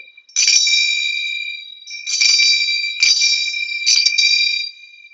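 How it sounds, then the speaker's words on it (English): Bright metallic ringing of finger cymbals (zills) played in a frill stroke, two sets moving past each other in a few quick overlapping bursts that shimmer and fade, close and clear with no talking. "the frill, which is two sets of your zills moving past each other to create a flip"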